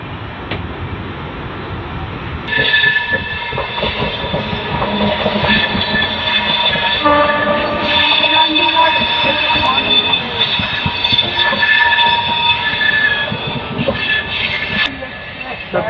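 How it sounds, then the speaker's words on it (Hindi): An Indian Railways express in a general coach rolls through Delhi Azadpur, loud continuous rumble and clatter of wheels on track with sustained high-pitched wheel squeal and layered metallic tones throughout, close and dominant. "तो दिल्ली आज़ादपुर होते हुए हमारी ट्रेन निकल पड़ी है।"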